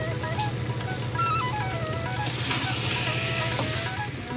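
Potato curry being sautéed in a pan with a little sugar for a home offering, a steady close sizzle and frying crackle with faint stirring scrapes throughout.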